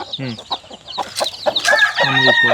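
Native country chickens on a small backyard poultry farm of about a hundred birds cluck and squawk close by in overlapping bursts, with a high rising call near the end.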